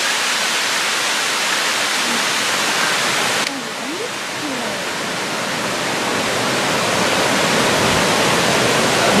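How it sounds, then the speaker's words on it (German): The Triberg waterfall in the Black Forest roars as steady, broad, full-bodied rushing water close by, a constant dense wash with a brief dip partway through and faint voices barely surfacing beneath it. "Wasserfälle."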